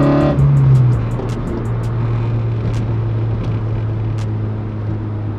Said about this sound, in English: Cars are starting to be on the road now